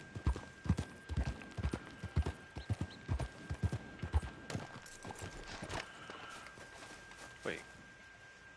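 Horse hooves clip-clop in an irregular walking rhythm through a busy town in the western game Red Dead Online, several riders close by, with game sounds and a voice talking over them.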